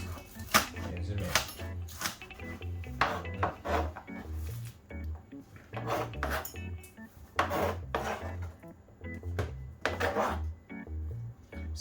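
Scallion and thyme being chopped for Jamaican curry chicken back, a rapid uneven series of knife knocks on a board with scraping in between, fairly close and loud, no voice over it.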